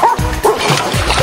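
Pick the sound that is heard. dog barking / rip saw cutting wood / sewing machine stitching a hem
dog barking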